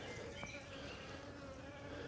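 Bees buzzing around flowering plants near a well apiary, a faint, continuous hum of many insects with occasional nearer passes, quiet and steady with no talk.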